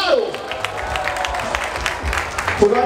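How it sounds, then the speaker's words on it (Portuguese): A street crowd at a Batalha da Aldeia rap battle during São Paulo's Virada Cultural claps and cheers loosely, with voices shouting over the scattered, ongoing applause. "Solta as palmas aí pros moleques"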